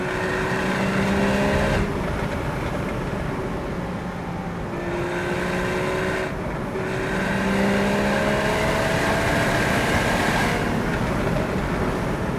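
Porsche Boxster 981 S mid-engine sports car driven hard through bends, its engine droning steadily with rising and falling pitch as gears change, loud and continuous from inside the car.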